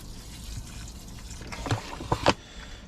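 Water poured from close by onto soil covering a seed potato planted at a slight angle, a soft trickle that builds into a few louder splashing bursts near the end, with no talking.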